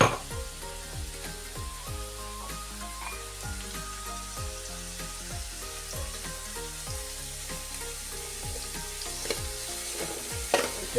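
Ginger-garlic paste fries alongside green chilies and capsicum, giving a steady, moderate sizzle with light stirring, beneath soft background music.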